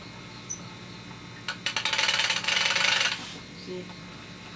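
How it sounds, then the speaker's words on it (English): A test magneto makes noise once a connection is made: a burst of rapid, rasping clicks rises out of a quiet background and buzzes for about a second and a half before stopping. "This is a test magneto"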